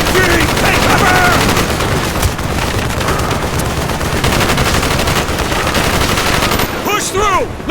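Machine gun fire in the video game Call of Duty: Black Ops rattles loud and close in a near-continuous barrage that lasts almost the whole clip, thinning briefly at the very end.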